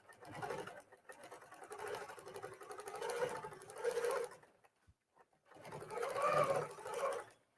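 A sewing machine stitches a baby bubble quilt in two runs of fast rhythmic whirring and clattering, the first longer, separated by a short quiet pause with small handling clicks.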